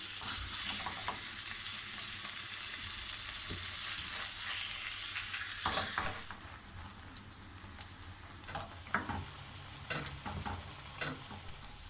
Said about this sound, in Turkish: tavuk göğsünü tavanda kızartıyorum